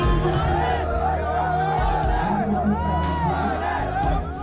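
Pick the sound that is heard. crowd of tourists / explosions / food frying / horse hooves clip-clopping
crowd of tourists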